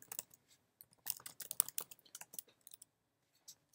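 Quiet, close typing on a computer keyboard, a quick burst of irregular key clicks followed by a few sparse taps while entering an apt-get update command.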